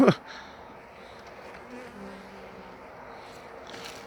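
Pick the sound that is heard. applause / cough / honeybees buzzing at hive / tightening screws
honeybees buzzing at hive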